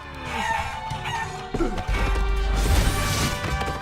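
Chicken clucks and crowing in the video game Guacamelee, squawking over busy game music with a sudden crash-like burst midway, loud and continuous throughout.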